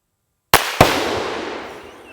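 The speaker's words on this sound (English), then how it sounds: "So, all right, here we go. Let's do some more shooting." Two sharp, loud shots from a Volquartsen Scorpion pistol with a 6-inch barrel, fired outdoors at a range about a quarter second apart, each ringing out into a long fading echo.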